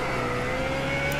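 Race car engine in iRacing's Blancpain GT running at Mosport, holding a steady high-revving drone with a faint whine on top as the driver works the paddle shifter, loud and continuous with no voices.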